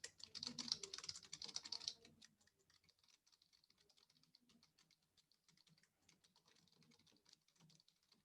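Random text is typed on a computer keyboard as a quick, busy burst of key clicks for about two seconds, followed by sparse, faint taps. The typing is close and alone, with no voices.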